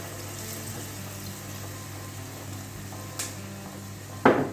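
Red wine saved from a beef marinade, plus port, poured into a pot of beef bourguignon: a steady liquid pour with a soft low hiss throughout, ending in a sharper splash or clatter near the end.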